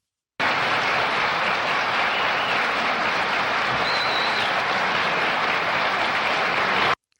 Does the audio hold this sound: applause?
yes